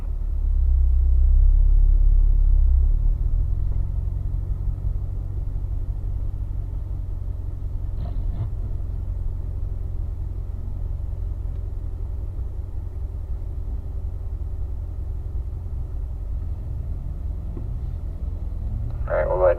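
Race cars at Spring Mountain roll slowly forward toward pit lane, giving a steady low engine rumble that is loudest at the start and then holds evenly, with faint voices in the background.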